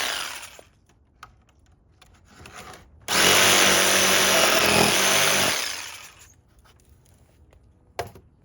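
Power tool cutting through a wooden roof rafter for a sauna build, a loud continuous whine lasting about three seconds between quieter handling noises and a sharp knock near the end.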